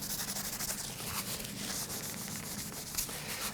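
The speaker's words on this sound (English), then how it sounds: "I'm going to just rub the excess off" Steady, soft rubbing against a wooden electric guitar fretboard as excess oil is wiped off, a continuous close scuffing hiss with slight rhythmic strokes and no talk.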